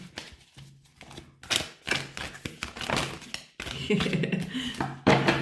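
Tarot cards shuffled by hand, some falling onto a table, irregular soft taps and thuds with papery riffles, close and quiet, with someone speaking in between.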